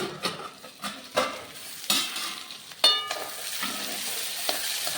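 Pigeon pea (tur) seeds dry-roasting in a pan, a close, busy crackle with sharp scraping clicks of a spoon stirring them, fairly loud and steady with no voices.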